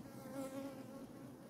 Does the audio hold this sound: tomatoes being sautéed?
no